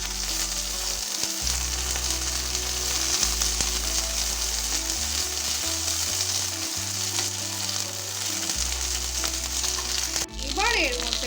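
Curry leaves, mustard seeds and green chilies frying in hot oil, a dense, steady crackling sizzle that runs throughout, with low hum underneath and a few spatters near the end.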